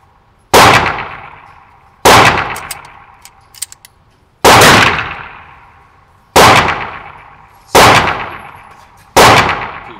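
A Sig Sauer P226 X-6 Skeleton 9mm pistol fires six loud, sharp shots at uneven intervals of roughly one to two seconds, each with a ringing decay, plus faint metallic clicks between them.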